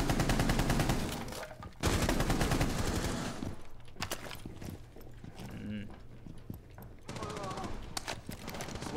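Gunfire in the Rainbow Six Siege video game: loud bursts of rapid automatic shots start and stop in bursts, with people talking over and between the shooting.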